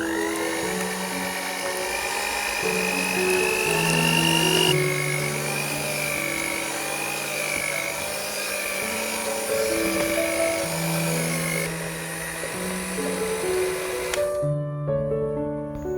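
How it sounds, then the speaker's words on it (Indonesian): An electric mixer kneads Thai milk bread dough with margarine at medium speed, giving a steady, continuous motor whine with stepped tonal layers that runs for most of the stretch and then cuts out near the end. "Lanjut ini kita mixer lagi sampai kalis pakai kecepatan sedang ya."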